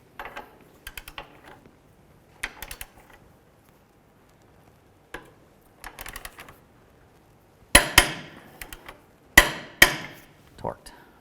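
A torque wrench tightening the front lower control arm bolts on a 1998-2012 Ford Crown Victoria gives a scatter of sharp metallic clicks and clanks with quiet gaps between, the loudest bursts coming near the end.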